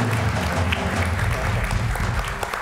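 Studio audience applauding on a Turkish TV talk show, loud dense clapping with a busy low rumble, continuous from start to finish.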